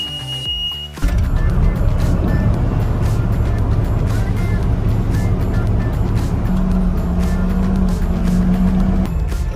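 Machine engine cranked and running steadily at close range while hydraulic couplers are tested for leaks, a dense continuous rumble after a brief start at about one second, with some background noise.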